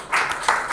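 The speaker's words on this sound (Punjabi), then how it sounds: "ਤਾਲੀ ਤਾਂ ਬਜਾਓ ਯਾਰ ਸਰ ਨੇ" A class claps for their teacher at Shamrock International School, a brief burst of several hands clapping together, near and moderately loud, rising and falling over under a second with no talking.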